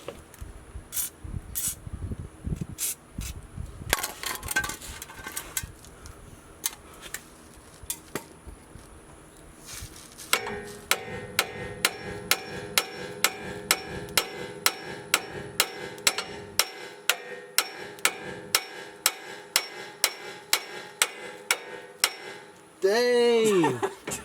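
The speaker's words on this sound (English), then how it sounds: "I'm gonna have to get a regular hammer, hit that thing." Repeated metal-on-metal hammer blows striking a stuck bolt on a 24V Cummins truck in a garage, first a few scattered hits, then a long steady run of sharp, ringing strikes, close and loud, ending with a brief squeal.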